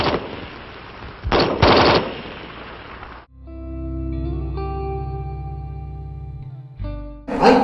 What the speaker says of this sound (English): By turning the selector to full automatic, fire is continuous as long as the trigger is held back and there are rounds in the magazine.